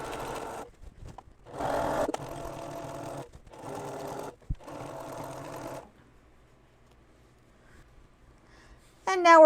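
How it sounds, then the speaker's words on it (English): A sewing machine stitching quilt binding runs in four steady bursts separated by short pauses, close and moderately loud, then goes quiet before a brief high sound at the end. "I'm taking 3/8, so I'm just going to line up right there and stitch to the other side."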